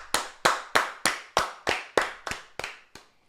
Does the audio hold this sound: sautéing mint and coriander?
no